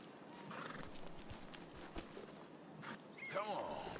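Horse hooves clip-clop steadily while a horse whinnies near the end, in the Red Dead Redemption 2 video game, with someone talking over the sounds.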